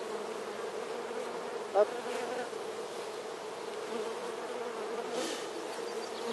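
Honeybees hum steadily during a transfer into a Dadant 8-frame hive, a close, soft, continuous buzzing with one brief louder bee passing, and a short spoken interjection.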